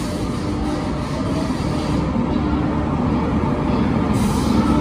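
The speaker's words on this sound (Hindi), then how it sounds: "और ये प्लेटफॉर्म नंबर 1 पे पद्मावत एक्सप्रेस आ गई है" Padmavat Express pulled by a WAP 7 locomotive arriving at platform 1 of Bareilly Junction, a steady loud rumble of rolling rail cars with broadband rail noise throughout, no voices.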